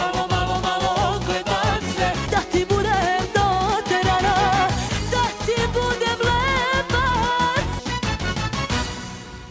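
Turbo folk music plays loud and continuous, with a steady pounding beat under bright, wavering melodic lines, ending with a fading tail.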